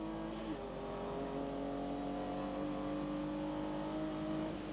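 VW Vento VR6 race cars in a 1997 circuit challenge, engines droning steadily at a distance with rising and falling engine tones, fairly faint and continuous.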